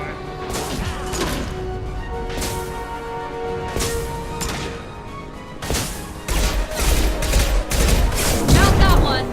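Heavy gunfire and impacts in a Mass Effect 2 battle on Omega, repeated loud shots and crashes in bursts building toward a dense barrage near the end, with voices talking between shots.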